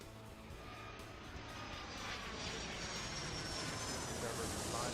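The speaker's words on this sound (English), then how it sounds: "991, clear for takeoff, runway 36" Airliner taking off on runway 36 in the airport video game Airport Madness 3, an aircraft engine roar swelling steadily louder over five seconds.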